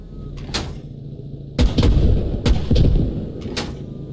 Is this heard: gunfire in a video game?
yes